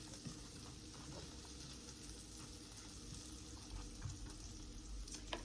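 One small chopped onion frying in melted butter in a pan, a steady, close sizzle that runs evenly throughout with no talking.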